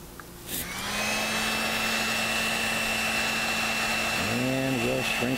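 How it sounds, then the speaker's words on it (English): Heat gun switching on with a click and then blowing steadily, a loud continuous fan whir while shrinking green heat shrink tubing during a microphone cable repair, with a voice entering near the end. "the green material, to be slid down into place and shrunk down with the heat gun"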